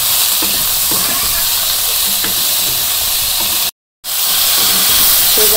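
Potato and eggplant sauté in a pan with turmeric and dried and green chili, a loud, steady sizzle with occasional stirring scrapes and a brief moment of silence near the end.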